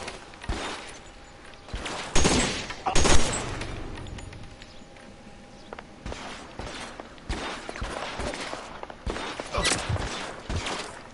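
Scattered gunshots in an LA Noire shootout, sharp cracks and short volleys at varying distances, some sounding close and loud and others fainter, spread irregularly across a tense firefight.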